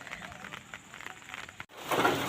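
Steady rain falls outdoors as a soft, continuous patter that swells louder near the end.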